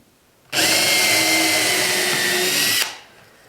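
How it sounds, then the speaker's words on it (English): A power drill bores through a piece of scrap wood for an easel build, a single steady high whine lasting about two seconds with a sharp start and stop, close and loud. "take my drill"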